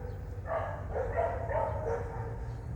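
Dogs bark in a Milan street, a run of four or five moderate barks at a middle distance over a steady low hum of city noise, with no talking.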